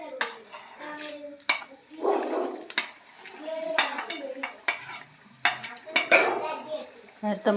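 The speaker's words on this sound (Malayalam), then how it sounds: "തേങ്ങ വറുത്തിടാണ് കേട്ടോ." A spoon stirs and scrapes grated coconut as it roasts in a pan, giving irregular sharp clinks and scraping strokes over a soft sizzle, with a voice speaking briefly.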